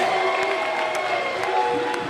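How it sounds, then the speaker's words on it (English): A commentator at a Limitless Wrestling match claps his hands in an even rhythm of about four claps, close by, over a constant roar of crowd noise. "That was me clapping."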